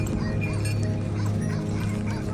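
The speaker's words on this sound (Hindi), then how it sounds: "आगे कोहिस्तानी कुत्ता है, उसने हमें देख के पहले ही भौंकना शुरू कर दिया" A Kohistani dog barks repeatedly in the distance on a mountain trek near Saral Lake, a steady run of yapping barks over outdoor background noise.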